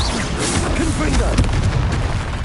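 Confringo blasting spells burst in Hogwarts Legacy combat, dense booming explosions layered over one another with a loud rumbling low end, while a voice talks over the effects.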